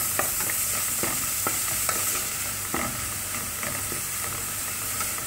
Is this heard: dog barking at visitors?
no